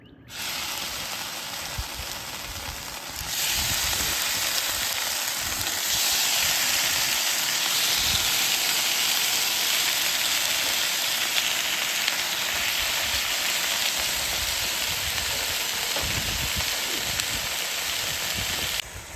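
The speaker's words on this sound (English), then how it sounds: "the thing with the turkey bacon as it's cooking here" Four slices of turkey bacon frying in a pan, giving a steady, continuous sizzle and hiss that swells louder after a few seconds and holds evenly throughout, with no voices.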